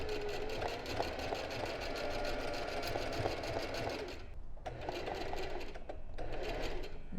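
A sewing machine stitching freehand embroidery, a rose worked in zigzag stitch, a close, fast steady whirring chatter that stops briefly midway, then restarts in short bursts.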